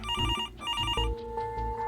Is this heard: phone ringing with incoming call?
yes